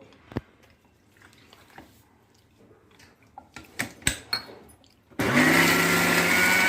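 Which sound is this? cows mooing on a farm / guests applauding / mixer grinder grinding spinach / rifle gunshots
mixer grinder grinding spinach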